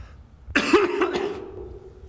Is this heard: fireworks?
no